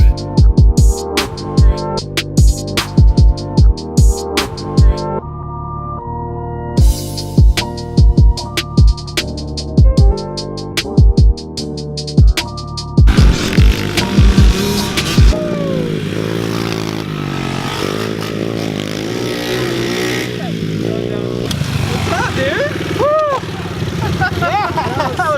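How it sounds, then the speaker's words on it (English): A pit bike, a small dirt bike, is ridden on a dirt track, its engine revving and rising and falling in pitch over the second half. Loud rhythmic music plays at the start, and voices can be heard. "I haven't ridden dirt bikes in a while, but it's gonna be awesome."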